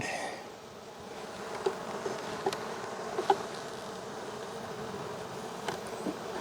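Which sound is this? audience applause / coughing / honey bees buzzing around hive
honey bees buzzing around hive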